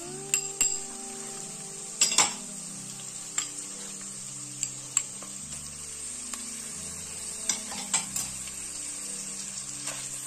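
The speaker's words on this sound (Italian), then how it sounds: "Una volta che la pancetta è rosolata, come ho detto, aggiungiamo la carne macinata." Minced meat tipped into a pan of browned pancetta for lasagne alla bolognese, sizzling steadily with scattered clinks and scrapes of utensils against the pan, no voices.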